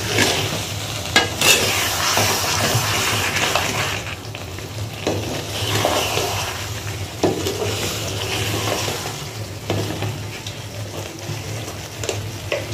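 Jaggery melting and bubbling in a pan on a raised flame for mango pickle, with continuous close sizzling, occasional stirring scrapes against the pan and no talking.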